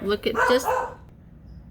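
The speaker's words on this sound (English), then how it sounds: "sorry about the barking" A dog barks a few times close by while a person is speaking, the barks overlapping the talk and fading out into quiet.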